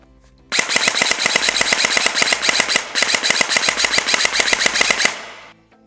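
A G&G CM16 airsoft rifle firing in fast full-auto bursts, a dense rapid clatter of shots in two long strings with a brief break between, loud and close before stopping abruptly.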